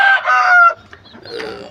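A large, sturdy rooster lets out one loud, close crow lasting under a second, followed by a few softer clucking sounds.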